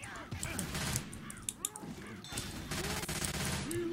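Dense, rapid gunfire rattles without pause in a Left 4 Dead 2 zombie shootout on the Blood Harvest map, bursts overlapping into a loud, continuous fusillade with sharp cracks standing out.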